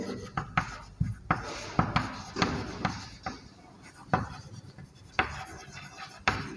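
A maths teacher writes out a sequence on a board in a classroom lesson, repeated sharp taps and scratchy strokes in an uneven rhythm, close and moderately loud, with faint speech underneath.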